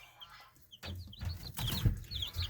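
Young chicks of a new breed, expected to turn all blue, peep and cheep close by, high soft calls scattered over rustling and light shuffling in their enclosure.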